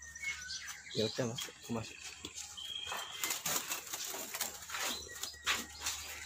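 Agitated white-rumped shama parent birds at a breeding farm give sharp chirps and calls with wing flutters, fairly faint under handling noise, and a person speaks briefly.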